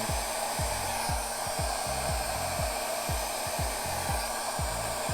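A hair dryer blows steadily and loudly at poured acrylic paint. Its constant whooshing roar continues throughout, with repeated low thumps pulsing beneath it.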